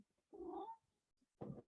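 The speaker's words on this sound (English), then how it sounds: "that is Abby, my cat." A house cat meows twice, a long drawn-out yowl followed by a shorter, lower cry, close and clear in a quiet room.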